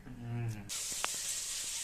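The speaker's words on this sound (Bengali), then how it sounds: "মাছ কেটে ধুয়ে নুন হলুদ মাখিয়ে ভাজা বসিয়ে দিয়ে" A brief burst of hissing sizzle as fish rubbed with salt and turmeric hits hot oil in a pan. A short voice comes just before it, then steady frying with a couple of faint clicks.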